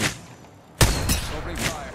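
A sudden burst of gunfire in Apex Legends, then a few softer follow-up shots and a lingering rumble, fairly close, after a quiet lead-in.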